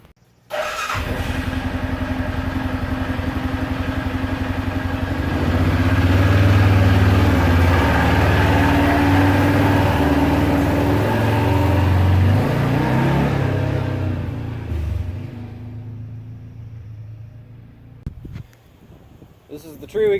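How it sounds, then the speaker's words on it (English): A pickup truck engine runs close by, rumbling steadily and rising as it revs while being moved, then fading toward the end, with a voice speaking over it. "Now we're gonna have to move the pickup out of the way"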